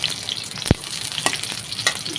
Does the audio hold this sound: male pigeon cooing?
no